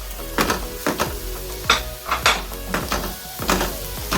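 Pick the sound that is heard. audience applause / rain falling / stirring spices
stirring spices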